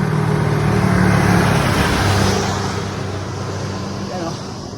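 Car engine straining under heavy load on a steep climb, a loud close droning hum that eases somewhat partway through, with muffled voices under it.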